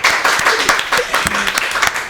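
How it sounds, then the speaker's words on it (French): An audience at a televised university quiz contest claps in a loud, dense burst of applause lasting a couple of seconds, with some voices mixed in. "On applaudit ça au moins, s'il vous plaît"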